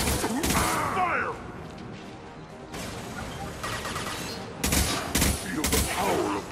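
Gunfire during a battle on Tuchanka in the video game Mass Effect: loud bursts of shots and impacts over a dense combat din, with a voice shouting in the midst.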